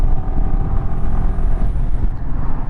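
Adventure motorcycle riding under throttle, a close, continuous engine rumble with road and wind noise for a few seconds.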